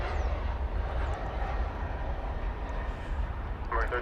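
A jet airliner arriving at DFW Airport roars as a steady broadband rumble, loud and close throughout. Faint higher tones and a few clicks come through near the end.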